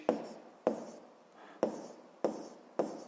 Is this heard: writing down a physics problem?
yes